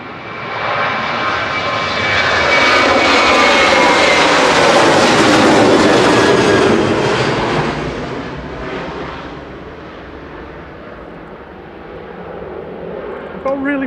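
A TUI passenger jet at Manchester Airport roars past, its engine noise swelling to a loud peak mid-way and then easing off while staying strong and broad throughout.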